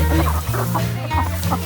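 Hens clucking inside a small coop, close and loud, with repeated overlapping clucks and low rhythmic calls running continuously, no speech.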